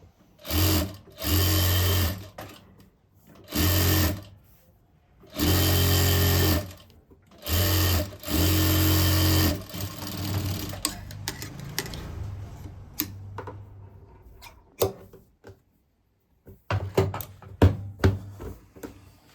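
A sewing machine stitches the curved armhole of a sleeve cut blouse in about five loud, close bursts of rapid whirring, separated by short pauses, then gives way to quieter handling noises and clicks.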